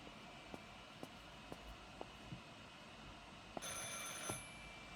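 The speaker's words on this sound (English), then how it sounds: "I should pick up the phone but remain silent." An old telephone rings in the horror game Martha Is Dead, a faint, regular series of short bell strikes over a quiet hiss, followed by a louder, sustained metallic ring near the end.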